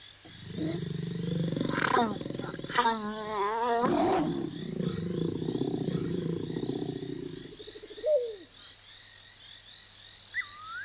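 Several adult lions of the Mala Mala pride roar and grunt in a deep, rhythmic bout close by, trailing a mating pair, with insects chirring steadily in the background and a short bird call near the end.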